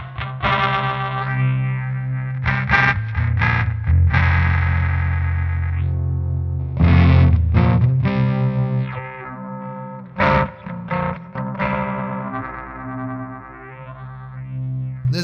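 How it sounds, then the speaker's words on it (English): A vintage Moogerfooger 12-stage phaser produces a harsh, buzzing ring-modulated fuzz tone, played as sustained notes and short stabs with gaps between them and no talking. "I guess you'd call it ring modulation, but it sounds like fuzz."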